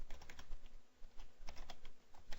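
Rapid typing on a computer keyboard while writing code, a steady run of close, crisp key clicks with brief pauses and no speech.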